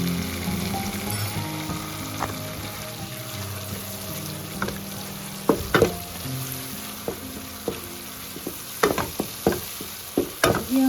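Garlic and ginger frying in a pan for a simple palak dish, a steady sizzle with scattered stirring clacks and scrapes, close and continuous for about eleven seconds.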